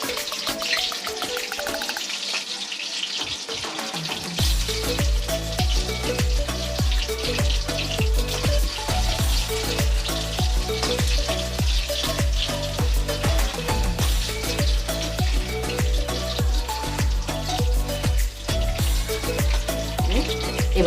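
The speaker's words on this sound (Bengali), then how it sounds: "আমি চিকেনটাকে ভাজবো।" Chicken pieces for dry chilli chicken fry in oil in a pan, giving a continuous crackling sizzle with a bright, spattering hiss, heard under steady rhythmic background music.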